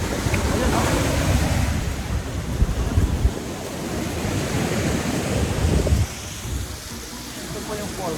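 Sea waves wash and roar continuously on Koura Beach in Japan, close and loud, with heavy wind buffeting the microphone throughout.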